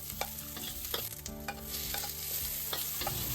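Spices sauté in a little cooking oil in a pan for ginataang tilapya, a soft close sizzle with light scraping stirs and occasional pops, fairly quiet and with no one speaking.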